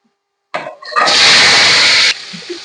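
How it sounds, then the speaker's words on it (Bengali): Ridge gourd pieces drop into hot oil, setting off a loud, sudden hiss that holds steady for over a second, then eases to a softer sizzle. "ঝিঙেগুলো তেলের মধ্যে দিয়ে দিই"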